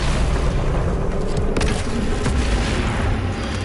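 Sticky bomb detonation in the video game DOOM Eternal, a loud booming blast over dense, continuous game noise and rumble, with no talk.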